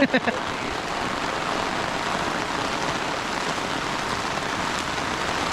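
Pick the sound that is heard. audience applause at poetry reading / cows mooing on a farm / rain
rain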